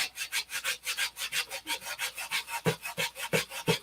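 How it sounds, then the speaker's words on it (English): 80 grit sandpaper rubs back and forth on a model aircraft fuselage in quick, even strokes, a close, rhythmic rasping with a few sharper knocks near the end and no voices. "This is just 80 grit sandpaper."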